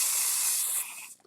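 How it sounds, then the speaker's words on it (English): Hairspray from an aerosol can hisses onto black cardstock in one loud, close, continuous burst lasting about a second before cutting off abruptly. "I'm just going to give this a little bit of a shake and then we're going to spray it."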